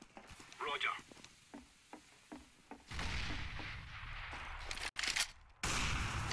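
Gunfire in the video game Counter-Strike during a competitive match, sharp bursts of rapid shots layered with game effects, while players talk over it.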